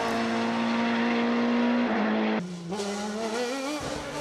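A Norma M20 FC CN2 race car at the Teurses Théréval-Agneaux 2017 hillclimb, its engine screaming at high revs, then a sharp gear change and a renewed climb in pitch, loud and close.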